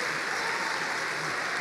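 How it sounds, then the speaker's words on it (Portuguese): Dense, steady applause from a church congregation, a brief continuous burst of clapping at even loudness. "Dê um aplauso ao Senhor."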